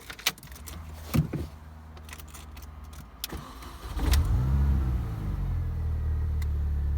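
A 2004 MINI Cooper S with a JCW tuning kit: a few clicks and key jingles, then the starter whirs and the engine catches into a deep, steady idle rumble, close and loud.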